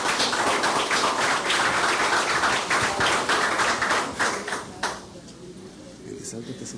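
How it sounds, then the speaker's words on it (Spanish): Audience applause for a speaker at a water governance workshop, a burst of many hands clapping loudly that fades out after about five seconds. "Un aplauso para ella"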